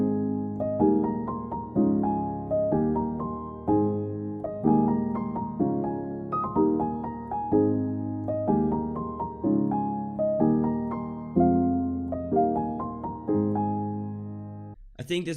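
A synth melody plays alone, a bright plucky lead with chord stabs in a bouncy repeating pattern, each note decaying quickly, ending in a brief burst of noise.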